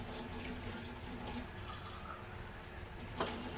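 Acidic water pours from a Vesta H2 water ionizer into a container, a steady quiet trickling stream with a few faint drips and a small splash near the end.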